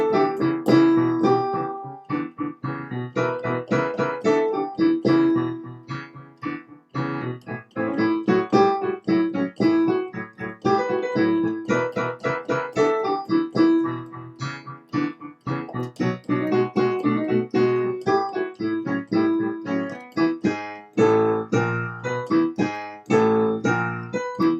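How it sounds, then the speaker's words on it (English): Solo piano plays a lively rhythmic boogie with steady repeated bass patterns and punchy chords, loud and continuous, alone without voices. "the piano part sounds like this."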